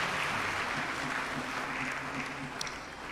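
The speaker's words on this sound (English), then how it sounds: "A round of applause, please" Steady applause from a large crowd fills the hall at a priestly ordination ceremony, sustained and even throughout with no break.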